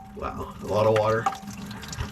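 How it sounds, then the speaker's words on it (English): Water mixed with some oil pours out of an excavator swing motor once a 17mm drain bolt is removed, a splashing gush that comes and goes while someone talks over it. "Oh my gosh, there's so much water coming out."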